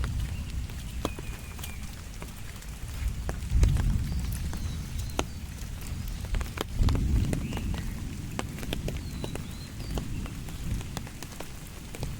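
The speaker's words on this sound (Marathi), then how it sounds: "बघा पाऊस किती पडता" The season's first rain pours steadily onto a surface in a village in Rajapur, Ratnagiri, a dense patter with a few louder swells, and no one speaking.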